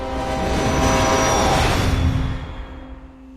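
A train in the video game What Remains of Edith Finch rushes past with a loud, dense rumble and tonal whine that swells and then fades out over a few seconds.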